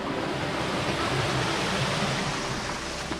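Small roadside waterfall at Lenon Head, County Donegal, a steady broadband rush of running water, close and continuous, with no voices over it.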